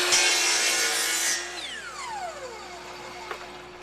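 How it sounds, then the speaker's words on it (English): A miter saw makes a compound angled cut in wood, a loud close blade cutting through the board, then the motor winds down with a falling whine after the cut finishes. "So now we'll adjust the saw and make a steeper angle and bevel"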